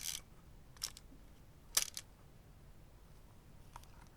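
A few faint, sharp mechanical clicks from an Exa film SLR camera being wound on, spaced irregularly in an otherwise quiet room.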